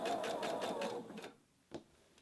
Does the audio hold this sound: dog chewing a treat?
no